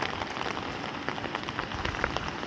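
Steady rain patters densely on surfaces in a town street in Tampere, Finland, a constant close hiss with small scattered droplet ticks and no voices.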